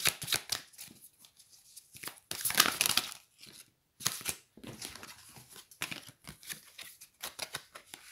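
Tarot cards being drawn and handled during a reading, giving close, dry papery rustles and flicks in irregular bursts of varying loudness with short quiet gaps, no voices.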